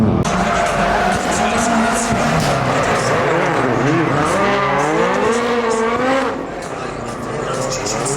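An 800-horsepower Subaru drifts at a Gymkhana Grid event, its tires squealing in long, wavering howls over a loud, steady engine roar that eases slightly near the end, with people talking underneath.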